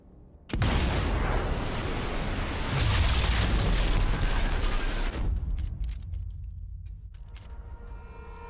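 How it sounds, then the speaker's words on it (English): A loud gunshot blast from the video game Sniper Elite 4 erupts abruptly and rolls into a long, dense rumble that swells and lingers for several seconds before fading into low background noise. "They heard the gunshot"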